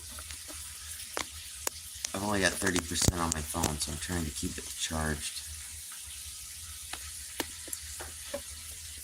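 Leftover stir fry sizzles in a hot pan, a faint steady crackle running beneath a man's speech, with occasional sharp pops and ticks.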